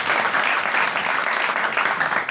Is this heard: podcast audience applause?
yes